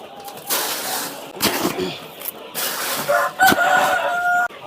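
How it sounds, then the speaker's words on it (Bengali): Tiger chickens on a large poultry farm at morning feeding time, with close clucking and a rooster crowing amid a flock, in bursts over barn noise. "এ হচ্ছে যে টাইগার মুরগি"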